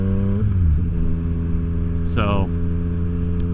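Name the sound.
Yamaha FJ-09 motorcycle with Black Widow exhaust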